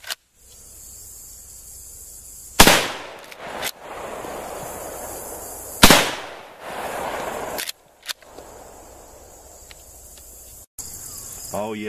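A Winchester "Buffalo Bill" 30-30 lever action rifle fires two loud, sharp shots a few seconds apart, each with a short decaying echo, followed by fainter clicks of the lever action.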